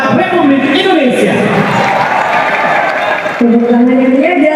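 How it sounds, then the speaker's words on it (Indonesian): A crowd at a political rally for volunteers in Indonesia cheers and applauds loudly and close, a continuous roar with a brief dip, while a voice talks over it. "Tepuk tangannya"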